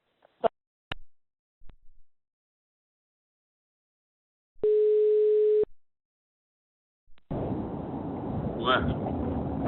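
A telephone line tone sounds once as a single steady beep of about a second while a caller waits on the phone, set among sparse clicks and silence, followed by noisy rustling.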